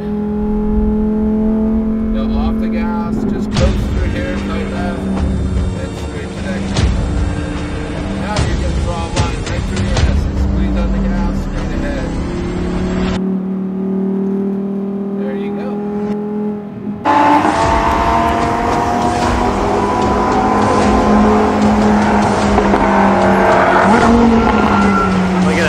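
A Lamborghini Huracan accelerates hard on a race track, its engine note climbing loud and close in rising sweeps with brief lifts off the throttle, while a voice talks over the roar.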